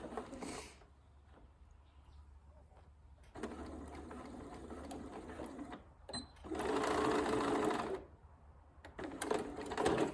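A sewing machine stitches across a zipper pouch, running in bursts with mechanical whirring and clatter, with pauses between runs and a louder, steadier run near the end.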